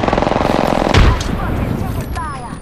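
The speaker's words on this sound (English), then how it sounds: "Taking fire." Rapid automatic gunfire bursts in the Apex Legends battle royale, loud and close with a heavy thump near the start, then trailing shots and game effects fading under the mix.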